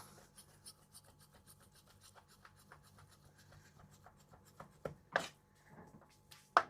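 Raw chicken for shawarma is sliced with a sharp knife on a cutting board, making faint, repeated rasping strokes, with a few louder knocks toward the end.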